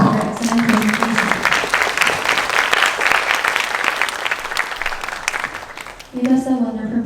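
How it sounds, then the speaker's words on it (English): Audience applauding after a student research presentation at a school international academic forum, a loud sustained burst of clapping bracketed by a speaker's voice at the start and end. "Please give another big round of applause to Timothy for your excellent presentation."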